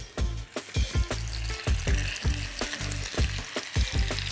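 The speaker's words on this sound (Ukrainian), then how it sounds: "Я, власне, закидаю м'ясо смажитись." Chicken fillet sizzles and spits in a hot pan while a utensil stirs it in rhythmic scrapes and clacks, close and steady.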